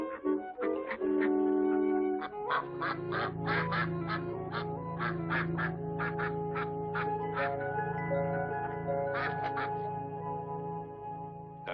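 Ducks on a duck pond quack repeatedly in bursts of harsh, nasal calls, several birds overlapping close by over a low steady background hum, with no voices.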